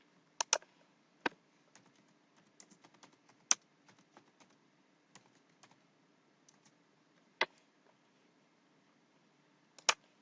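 Sparse computer keyboard typing while entering spreadsheet data, isolated close key clicks with a few sharper taps scattered irregularly over a quiet background.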